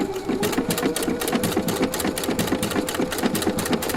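A Husqvarna Viking sewing machine stitches with a circular attachment, a steady fast mechanical rattle of needle strokes at an even rhythm, close and continuous with no talking.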